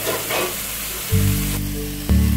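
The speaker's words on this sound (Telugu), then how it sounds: "అది పచ్చి వాసన పోయేంత వరకు వేగనివ్వాలి" Pepper and seasonings for baby corn fried rice frying in hot oil, a loud close sizzle that swells with a steady hiss and rises again near the end.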